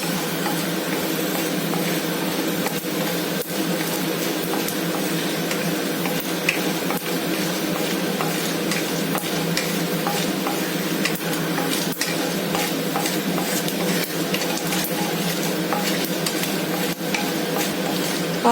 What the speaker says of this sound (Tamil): வறுக்கும் போதே உளுந்து கடலை பருப்பு நல்ல மணமாக இருக்கு